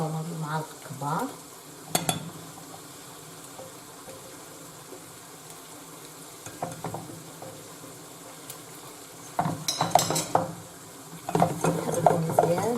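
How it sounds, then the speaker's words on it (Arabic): Butter and flour being stirred in a pan for a roux, with intermittent scraping and clinks of a spoon against the pan over a soft background sizzle, loudest in bursts near the start and end. "نحركو مزيان بحال هكا."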